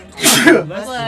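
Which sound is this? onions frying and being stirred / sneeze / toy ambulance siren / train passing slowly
sneeze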